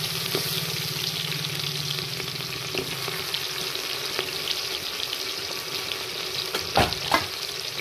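Chopped onion frying in a pan for mixed veg matar pulao, a steady soft sizzle running throughout with occasional stirring scrapes and a couple of louder clinks near the end.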